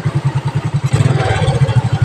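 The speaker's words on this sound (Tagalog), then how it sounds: "Sobrang tahimik ng makina." A Suzuki Smash 115 motorcycle engine runs steadily, its loud, close, rhythmic low putter thumping at an even pace with some mechanical clatter over about two seconds.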